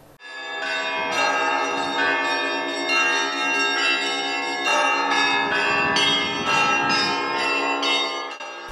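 Church bells of the Iversky Monastery ring out in a continuous peal, several bells struck in overlapping rhythm with rich ringing tones, loud and unaccompanied by voices.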